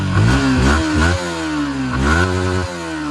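Yamaha R15 v3 motorcycle engine revving repeatedly, its pitch rising and falling through several throttle blips with a steady idle rumble underneath, loud and close.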